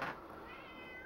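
A house cat gives a single short, faint meow, close by in a quiet room.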